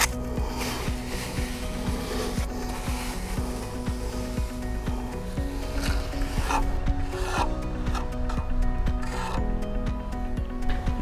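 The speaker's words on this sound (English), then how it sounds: "level the repair area using a steel trowel for the thickness between 2 to 10 mm" Steel trowel scraping and leveling Denka Estopatch RSR, a polymer-modified fast-setting patching mortar, over a repair area 2 to 10 mm thick; a steady close rasping rub runs throughout at even loudness with no talk.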